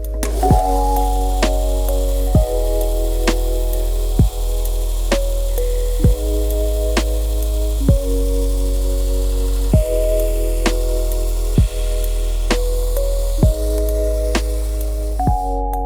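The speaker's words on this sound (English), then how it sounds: "Believe it or not, you actually just use a belt sander for leather working" A belt sander works a hard leather knife sheath with a constant motor hum and a regular tick from the belt roughly every two seconds, steady and close.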